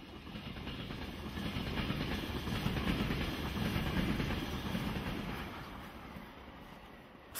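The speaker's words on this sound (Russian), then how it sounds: "лишь время от времени нарушается стуком проезжающих мимо поездов" The Glacier Express passes through a quiet Swiss mountain village with a sustained rumble and rhythmic clickety-clack of wheels on rails, swelling to a peak midway and then gradually fading as the train moves away.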